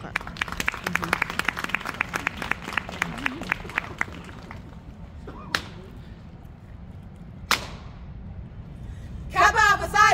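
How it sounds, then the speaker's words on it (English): Clapping at a sorority and fraternity step show, a quick run of sharp rhythmic claps, then a few isolated loud cracks spaced apart, ending with shouting voices. "Just clap"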